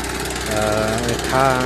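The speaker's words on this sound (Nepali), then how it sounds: "मेसिनले तानेर पानीलाई बाहिर पठाउने काम भइराखेको छ" A water pump runs steadily beside a pit where the ground collapsed, drawing the water out with a continuous engine drone and shifting tonal whine, while a voice talks over it.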